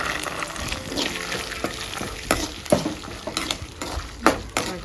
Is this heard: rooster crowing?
no